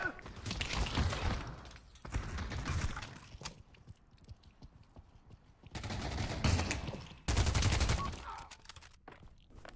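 Gunfire in the VR shooter Pavlov: dense bursts of automatic and rapid shots come in several loud clusters with short gaps, mixed with footsteps and game noise, while voices talk intermittently.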